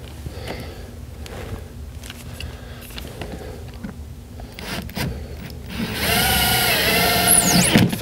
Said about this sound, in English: And we'll put our two screws back in.